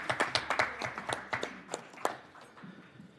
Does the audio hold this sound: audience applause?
yes